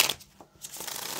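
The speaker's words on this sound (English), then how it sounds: "get a couple more shuffles" Tarot cards get shuffled by hand in a couple of quick riffling bursts at close range, separated by a short pause, with no talking.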